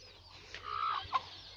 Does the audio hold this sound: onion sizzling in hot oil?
no